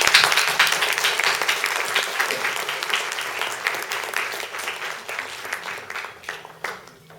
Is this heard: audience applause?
yes